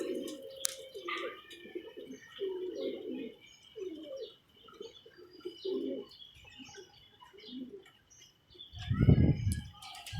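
Pigeons coo in soft, throaty rolling calls, several in succession, close by in rain, with faint chirps in the background.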